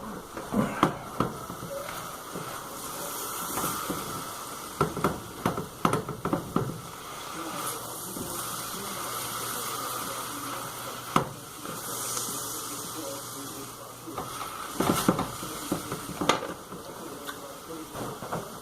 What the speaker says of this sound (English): I gotta keep stirring my meatloaf that I'm sauteing over here